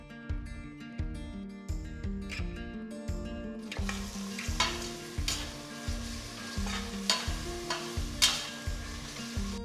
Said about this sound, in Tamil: இதுக்கு 3 டீஸ்பூன் பூண்டு பேஸ்ட் சேர்க்குறேன்.